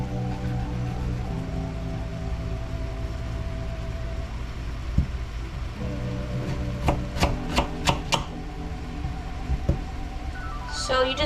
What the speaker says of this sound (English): So you just chop up some of this zucchini.